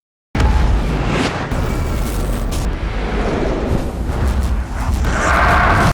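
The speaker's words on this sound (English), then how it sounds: "A massive explosion follows." A massive explosion in the film Home Sweet Home Rebirth (2025) erupts suddenly and keeps roaring as a dense, rumbling wall of noise for several seconds, with debris-like crackles and a rush near the end.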